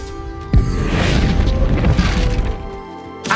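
The Confringo blasting spell in Hogwarts Legacy going off as a sharp, loud crack and boom followed by a shattering, rumbling burst, with another hit toward the end.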